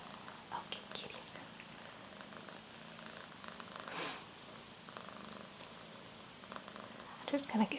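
A house cat purrs softly and steadily at close range in a quiet room, with faint whispering and a few small clicks and rustles near the end.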